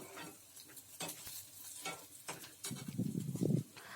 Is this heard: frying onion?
yes